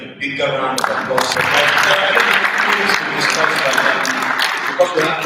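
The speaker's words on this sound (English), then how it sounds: "I think we need to give them a bigger round of applause" An audience at a law week event applauds in a dense, sustained wash of clapping that swells after a short lead-in and holds steady, with voices faintly mixed underneath.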